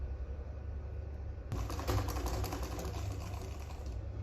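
A sewing machine stitches a half-inch seam on a stylish sleeveless gown, starting abruptly after a low hum and running as a steady, close, busy whirring rattle to the end, with no talk.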